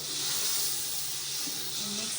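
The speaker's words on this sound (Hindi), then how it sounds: "तो 5 मिनट बाद अब मैं इसके अंदर 1 गिलास पानी का ऐड कर रही हूँ।" Water poured into a hot pan of Karachi-style biryani masala sends up a steady, fairly loud hiss of steam that holds for about two seconds, with faint scraping underneath.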